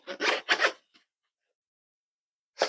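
A few quick pulls of a zipper on an AYN Thor carrying case close to the microphone, two rasping strokes in a row, a tiny tick, then silence before another zip at the end.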